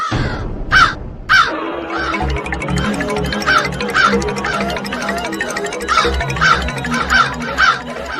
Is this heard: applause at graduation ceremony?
no